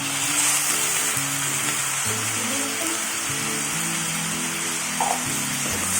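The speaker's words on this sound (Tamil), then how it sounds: "அதே நல்லா வதக்குங்க ஓரளவுக்கு" Tomatoes and onions sizzle steadily in a pan for paneer pasta, a close, constant frying hiss with a soft melody playing underneath and an occasional stir.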